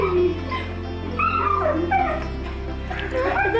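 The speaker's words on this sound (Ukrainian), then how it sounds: "Ці два милі маленькі песики також хочуть обіймати та цілувати свого господаря." Two small dogs whimpering and yipping close by, a run of high, wavering whines and short yips over a steady low hum, with no talking.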